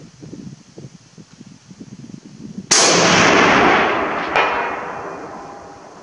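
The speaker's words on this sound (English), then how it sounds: "let's get doing some shooting here at the 400" A single loud, near Vz 54 rifle shot fired at a 400 range target, a sharp crack with a long rolling decay and a faint echo, after quiet handling sounds.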